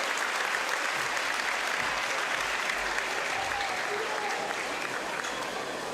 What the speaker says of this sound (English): One more big round of applause for them.